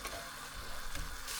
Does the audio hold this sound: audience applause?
no